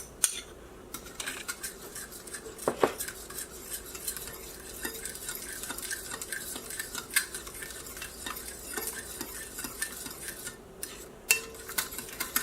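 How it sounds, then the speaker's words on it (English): Melted butter being stirred into a stuffing mixture of eggs and buttermilk in a bowl, with a steady faint clatter of a utensil scraping and tapping against the sides. Close and quiet, with no voices. "I'm going to add my butter, my melted butter."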